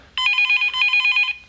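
A telephone bell rings indoors in a clear, steady trill of repeated electronic pulses lasting just over a second, loud and close with no talk over it.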